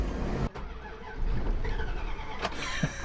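A car engine revs at close range, a steady broadband roar that swells and holds for about three seconds after a brief dip, with a short squeal near the end.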